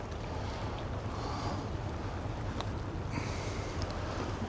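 A fast tide on the River Mersey rushes past a river wall, making a continuous broadband wash, mixed with wind buffeting.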